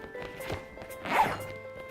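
A quick zip as a sealable bag is closed, a short rasping swipe close up among faint handling noises.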